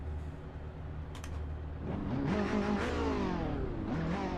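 Race car tyres squealing in the Assetto Corsa Evo racing game, a wavering high squeal rising and falling over a steady engine drone, close and continuous through most of the stretch.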